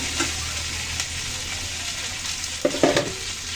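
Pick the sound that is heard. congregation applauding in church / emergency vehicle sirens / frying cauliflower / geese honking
frying cauliflower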